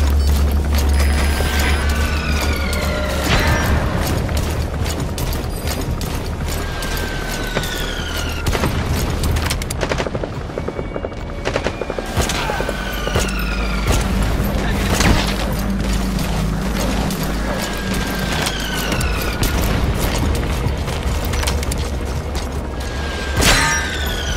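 Mortar fire and explosions from Metal Gear Solid 5 pound throughout a busy game soundscape, with repeated heavy booms, whistling incoming rounds and mechanical clatter layered close and loud, while voices talk intermittently.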